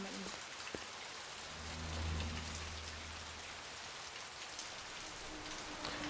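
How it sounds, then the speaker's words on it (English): Steady rain from the 1997 Blade Runner video game patters evenly across the whole stretch, with a low rumble swelling near the middle and no talking over it. "Oh, cool rain stuff on the front."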